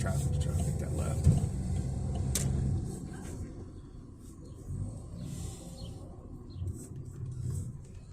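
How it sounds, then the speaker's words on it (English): Road traffic in downtown Phoenix, heard from inside a moving vehicle: a steady low rumble of engines and tyres with a few passing surges, loudest in the first few seconds and quieter afterwards. "There's a lot of traffic here right now."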